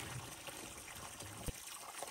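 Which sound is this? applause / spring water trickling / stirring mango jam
spring water trickling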